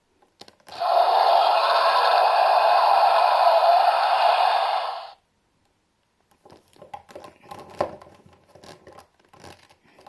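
A Walking with Dinosaurs movie toy dinosaur figure plays a loud, muffled electronic sound effect for about four seconds, followed by softer scattered handling rustles and taps.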